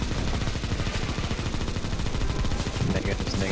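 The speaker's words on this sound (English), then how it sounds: "Keep shooting these guns." Gunfire from many weapons on the ze_rizomata map, stage 5, of a shooter game: a dense, continuous stream of rapid shots fires near and loud without any pause.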